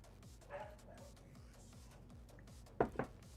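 Dogs in a home give faint yips and whimpers over a low background hum, ending with two short, louder barks near the close.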